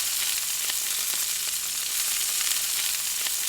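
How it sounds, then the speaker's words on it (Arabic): Hot ghee with garlic and pepper poured over lentil soup, a dense steady sizzle with faint crackles throughout, close and fairly loud, no one speaking. "يلا نسمع بقى صوت الطشه"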